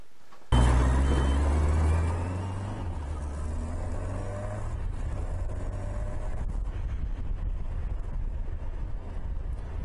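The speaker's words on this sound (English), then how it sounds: "here we are on the bike going for the MOT." A Yamaha XJ900S motorcycle heading down a UK road: a loud, deep engine drone at first, settling into a steady rumble mixed with rushing wind and road noise, with no voices.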